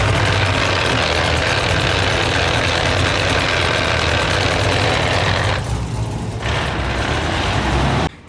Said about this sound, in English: as soon as I came almost all the way out of the clutch, it would grind